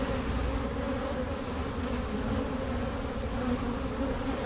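Honey bees hum in a steady, dense drone around a clipped queen being moved to a new hive, the buzzing close and continuous with no voices.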